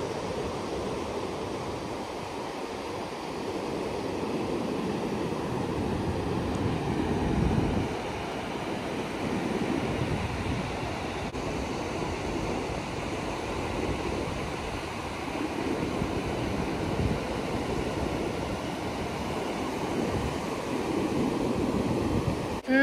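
Steady surf washing onto a Gulf of Mexico beach in Texas in early January, a continuous loud rush of breaking waves that rises and falls, with no voices.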